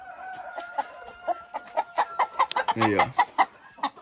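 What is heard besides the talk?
rooster clucking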